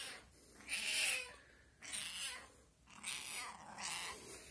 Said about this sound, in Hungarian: Itt egy macska, ott egy cica.